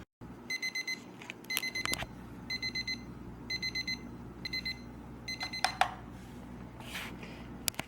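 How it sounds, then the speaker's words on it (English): A Wattz 2.0 projection alarm clock sounds its alarm, quick bursts of four high beeps repeating in a steady pattern, fairly close, followed by soft clicks and handling taps as it is silenced. "The alarm will stop if not snoozed or turned off."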